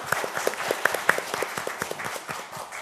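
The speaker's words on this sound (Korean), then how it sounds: "큰 박수를 맞아주십시오." Sparse applause from a small audience at a Korean panel discussion on digital piracy and copyright education, heard as distinct individual claps close by that gradually thin out.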